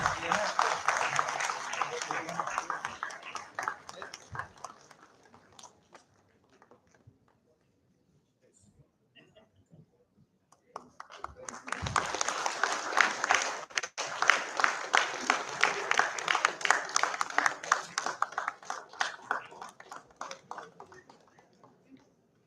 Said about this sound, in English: Please congratulate him with a huge round of applause.